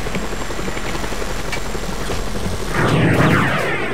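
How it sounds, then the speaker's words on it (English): Helicopter in the video game Just Cause 2, a loud continuous rotor and engine roar that swells and brightens in the last second, with no talk over it. "The helicopter sounds much nicer."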